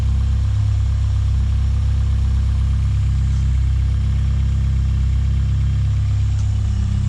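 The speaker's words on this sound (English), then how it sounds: "Has a factory sport exhaust, which sounds great." A 2005 Lotus Elise with factory sport exhaust idles on a cold start, a steady, loud, low rumble that holds close and even throughout with no revving.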